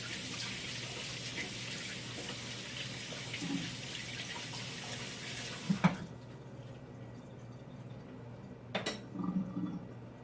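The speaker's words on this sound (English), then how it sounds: "Quick rinse of my spoon." A spoon gets a quick rinse under a running kitchen tap, a steady splashing rush that stops abruptly partway through, followed by faint metallic clinks and dripping in a quiet room.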